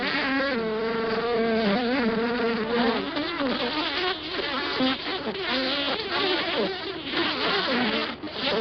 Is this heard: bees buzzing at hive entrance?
yes